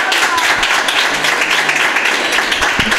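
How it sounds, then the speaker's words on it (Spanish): Audience applause at a Fallera Mayor 2018 event for Falla Plaza San Juan in Valencia, dense and steady clapping filling the whole stretch, close and loud. "ese fuerte aplauso"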